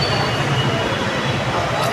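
Metro train rumble at a station, a steady broadband roar with low mechanical hum throughout, with people talking faintly in the background.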